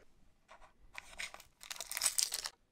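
A Pokemon Ultra Prism booster pack wrapper being torn open: a few short crinkly rips building into a longer, louder tearing pull, close and alone.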